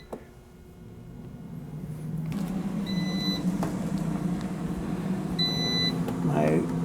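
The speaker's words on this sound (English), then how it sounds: "Air fryer is beeping." An air fryer set to 400 degrees with pizza inside gives two short, clear electronic beeps, a few seconds apart, over a steady low fan hum.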